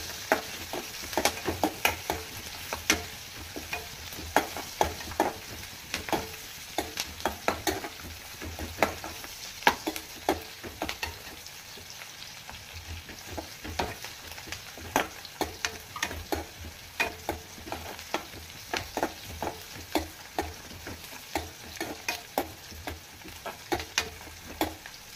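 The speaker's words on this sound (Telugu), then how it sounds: "ఆనియన్స్ గోల్డెన్ బ్రౌన్ కలర్ వచ్చే వరకు ఫ్రై చేసుకోవాలి ఆయిల్లో" Onions and green chillies frying in oil until golden brown for a chickpea and dry fish curry, a steady close sizzle broken by frequent sharp clicks of a spoon stirring against the pan, with no one talking.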